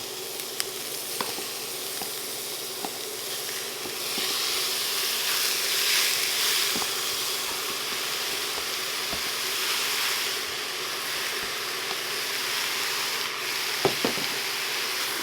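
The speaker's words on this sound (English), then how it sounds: "we're going to go ahead and add our turkey in. And we're going to saute it with all that nice built up flavor in there." Ground turkey sautéing with peppers and onions in a cast iron pot, a steady hissing sizzle that swells slightly midway, with occasional light taps and scrapes of a utensil, close and uninterrupted by voices.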